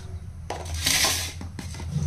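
A metal tawa frying pan is set down on a stove with a few clanks and scrapes, followed by a brief splash of oil going in, all close with no talking.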